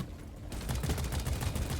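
Rapid bursts of shotgun fire in Deep Rock Galactic, dense overlapping shots after a brief quiet start, loud and sustained.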